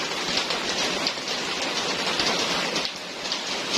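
Steady rain falls on a garden of plants, a dense, even hiss of drops hitting surfaces with no pauses and no voices.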